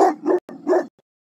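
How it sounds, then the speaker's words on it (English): A dog barks about three times in quick succession, loud and close, with short gaps between the barks and silence afterwards; no one speaks. "Dog."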